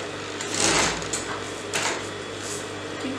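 A sewing machine stitches the curved crotch seam of palazzo pants, a close, continuous whirring hum that swells in two short bursts of speed.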